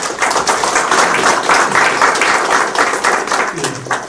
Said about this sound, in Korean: 힘찬 박수 받아주시기 바랍니다.